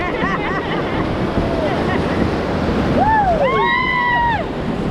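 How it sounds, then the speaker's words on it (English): Choppy whitewater rapids and waves rush steadily around a raft on a family rafting trip, a constant roar of water and wind with bright whooping cries and a whistle-like sweep rising above it. "We got a bumpy waves coming up."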